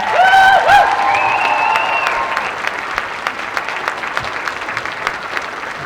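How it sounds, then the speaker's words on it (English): An audience at an elementary honor choir concert applauds warmly and at length, with a few tonal whistle-like notes and scattered cheers riding over the opening seconds before the clapping settles into an even patter. "Another round of applause."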